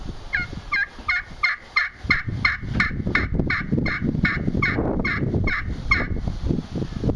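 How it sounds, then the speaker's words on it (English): Rhythmic turkey yelps worked on a Hook's Custom Calls crystal-surface friction call, about a dozen sharp high-and-low notes in a steady run, close and loud over rustling handling noise. "You like that high pitch, that high and low note in your yelp. This does it very easily with the crystal surface"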